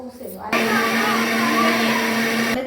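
A mixer grinder blends grated coconut with thick sour curd, a loud, steady motor whine with a churning grind that starts abruptly and runs without a break for about two seconds before cutting off.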